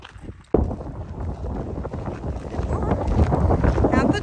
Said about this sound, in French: Il y a un peu de vent quand même.